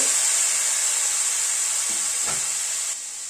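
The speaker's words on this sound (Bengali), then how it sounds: "একটু গরম জল দিচ্ছি মশলাটাকে কষানোর জন্য" Hot water poured onto frying spices (roasted fennel powder, Kashmiri red chili and turmeric) sets off a loud, steady, hissing sizzle close by that holds, then drops sharply in level near the end.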